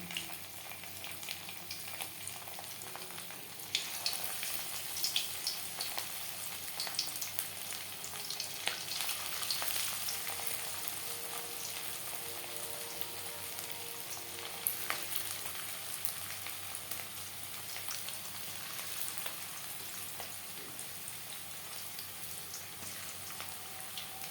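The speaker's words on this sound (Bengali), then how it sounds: "পাঁচ চামচ রিফাইন্ড অয়েল গরম করে নিয়েছি এবার দিয়ে দেব ম্যারিনেট করে রাখা চিকেন" Marinated chicken frying in hot refined oil for chilli chicken, a steady soft crackling sizzle with fine popping spatters, continuous and moderately quiet, with no voices.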